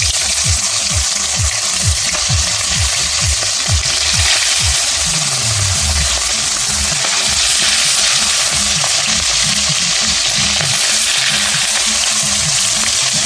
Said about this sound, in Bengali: একে একে আমি সব কটা মাছ ভেজে নেব।